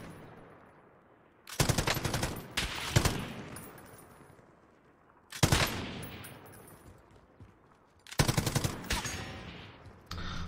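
Gunfire in Call of Duty: Warzone: three loud bursts of rapid automatic shots, each trailing off into a short echoing decay with quiet gaps between, heard alone without talk.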